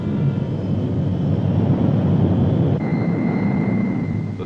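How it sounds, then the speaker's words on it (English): A C-130 Hercules transport aircraft, operated by the Navy on a polar resupply route, drones steadily with a loud, dense propeller-engine roar and a sustained hum, no voices present. "The C-130 Hercules, newest and most versatile addition to the Navy's air fleet, provides an efficient lifeline between the isolated stations and the coastal support base."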